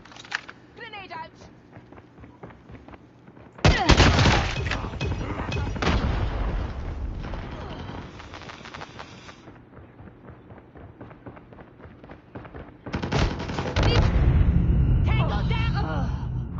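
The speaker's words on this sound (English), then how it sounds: "Grenade out." A grenade goes off in a first-person shooter game, a sudden loud boom that rolls into a long rumbling blast, with a second heavy burst later, under game voice callouts and effects.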